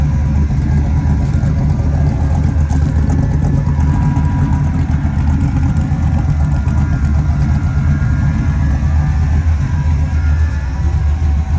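A 1970 Ford F100 pickup truck engine idles steadily with a deep, low rumble, continuous and unchanging throughout, close by with no talking.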